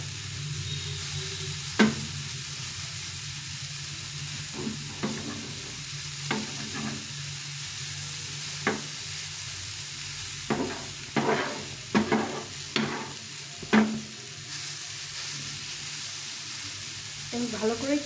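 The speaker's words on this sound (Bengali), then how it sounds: "গাজরটা একটু কালারটা চেঞ্জ হওয়া পর্যন্ত ভালো করে ভেজে নেব।" Grated carrots for carrot halwa frying in a pan with a low steady sizzle, broken by sharp scraping clicks of a spoon stirring at irregular intervals, close and alone with no talk.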